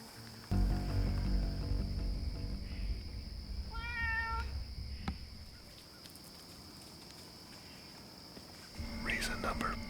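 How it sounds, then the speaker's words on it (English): A domestic cat meows in a short run of rising, wavering cries, fairly close, in a quiet woodland setting during an opening-weekend whitetail deer hunt, followed by a few faint rustles and a brief scrape. "A little kitty cat came in here, hunting some songbirds, and wigged out that little fawn."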